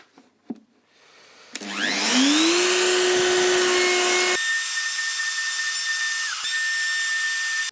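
A woodworking router mounted on a lathe with an indexing setup spins up from rest into a loud, close, high whine, runs steadily, then shifts to a lower, even drone as it cuts.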